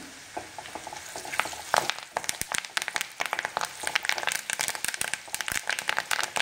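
Curry leaves crackle and spit as they hit hot oil over browned onion for a brinjal dish, a dense run of sharp pops and sizzles that grows busier throughout, close and fairly loud.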